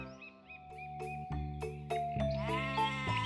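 A goat bleats repeatedly in a fairy tale setting, with loud, close, wavering cries over a sustained musical backing.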